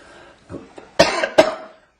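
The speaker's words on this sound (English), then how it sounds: "I've got a cough." Two sharp, close coughs in quick succession follow a softer throat sound, then fade to quiet.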